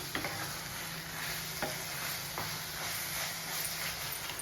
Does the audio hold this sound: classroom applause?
no